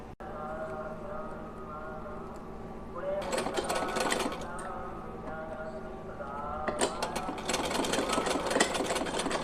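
A sewing machine stitches lace onto a small deity dress, its motor humming quietly at first before two fast, loud rattling bursts of needle stitching, with someone speaking over it.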